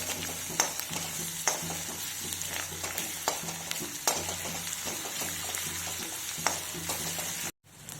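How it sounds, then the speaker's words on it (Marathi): Crushed garlic and green chili fry in a pan with a steady, close sizzle, broken by regular scraping stirs, before the sound cuts off abruptly near the end. "आता आपण ठेचलेला लसूण टाकूया आणि तोही व्यवस्थित परतून घ्यायचा।"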